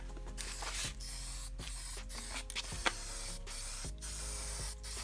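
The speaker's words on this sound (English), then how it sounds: "I like to move in a little closer so the paint lays down heavier." An aerosol can sprays paint onto an aluminum engine valve cover in steady, close hissing bursts, with brief pauses between passes.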